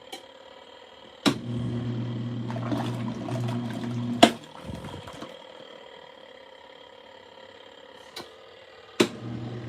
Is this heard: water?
yes